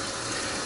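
Cold water gushes under strong pressure through a chiller hose on a home RIMS brewery setup, a loud, steady, close rushing flow with no pauses.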